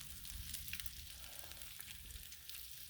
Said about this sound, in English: all this bacon took up the entire